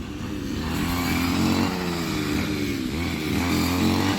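A brush cutter used to harvest rice in a paddy field gives a steady, close, loud engine drone that holds throughout with slight rises and dips in revs.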